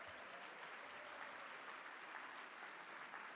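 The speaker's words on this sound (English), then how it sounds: "Please give them a round of applause." Steady applause from an audience at a brunch in a Grand Hyatt ballroom, dense even clapping throughout, moderately distant, without talk.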